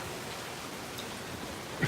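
Hurricane Zeta rain blows outdoors in New Orleans as a steady, dense hiss of wind-driven rain with no pauses.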